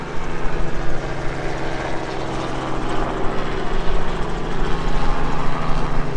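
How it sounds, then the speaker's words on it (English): A tour helicopter's rotor and engine drone fills the air overhead, a constant loud thrum with a rapid beating texture, no voices. "here comes one of the helicopter tours"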